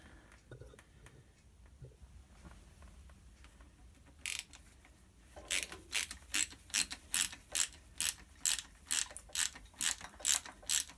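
Ratchet tightening a clamp on the front forks of a Harley-Davidson Sportster Sport 1200 motorcycle: about a dozen sharp, rhythmic clicking strokes, close and loud, preceded by quieter handling noises and faint movement.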